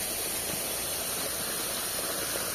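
Water gushes steadily from the outlet of a solar water pump drawing from an open river source in Peñaranda, Nueva Ecija, a loud, constant rushing hiss with no pauses.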